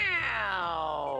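A person's voice imitates a cat's meow, one drawn-out, descending, nasal cry, loud and close, with no other talk.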